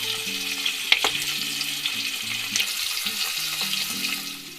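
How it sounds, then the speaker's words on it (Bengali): Hilsa fish frying in hot oil in a pan: a steady, bright sizzle and crackle runs throughout with a few sharper pops and faint low clatter beneath, close and continuous with no voices. "তো গাইস, এবার ইলিশ মাছটাকে ভাজার জন্য চুলায় দিয়ে দিব তেল।"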